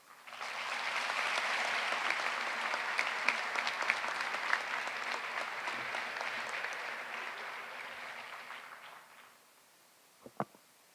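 Sustained audience applause fills the hall at a Fike High School class of 2019 graduation ceremony, loud and dense for about nine seconds before tapering off, followed by a few sharp isolated claps near the end.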